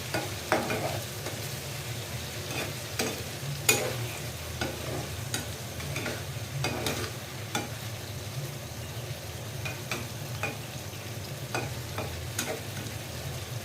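Catla fish frying with sauce in a pan, stirred with a spatula: a low steady sizzle under repeated sharp scraping strokes against the pan, close and fairly quiet, with no voices.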